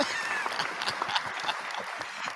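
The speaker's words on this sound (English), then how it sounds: "We give them a round of applause." Brief round of applause from a small group for a caller from Pontiac, a steady patter of claps held at moderate level through the short stretch.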